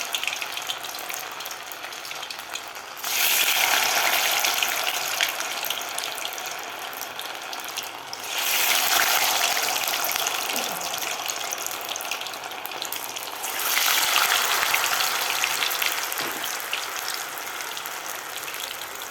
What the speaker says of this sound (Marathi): आता आपल्याला मीडियम गॅसवर व्यवस्थित गोल्डन कलर होईपर्यंत हे तळून घ्यायचं आहे.